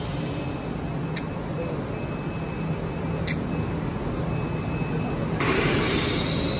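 Mumbai metro train running with a steady loud rumble of wheels and carriage, a brief high squeal near the end and faint voices in the background.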